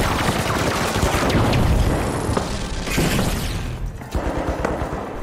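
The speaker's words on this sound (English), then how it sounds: "Getting sniped across the map." Gunfire from long-range sniping across the map in The Finals, an online shooter: sharp, loud cracks and booming reports ring out over a dense, noisy battle din of continuing shots and impacts.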